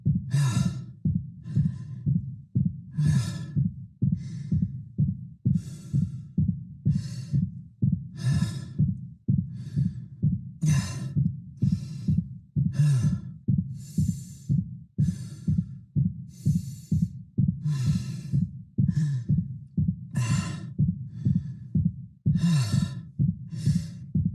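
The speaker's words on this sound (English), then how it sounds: "you'll start to hear fatigued breaths, exerted breaths start to mix in with his regular base breathing rate." Isaac's fatigued, exerted breathing after sprinting in the Dead Space remake: heavy, rhythmic inhales and exhales repeating steadily for over twenty seconds over a low, throbbing heartbeat, close and loud with no speech.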